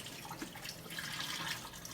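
Canned hominy being rinsed under running water, a steady close tap stream splashing into a sink, continuous and fairly soft for two seconds, without talk.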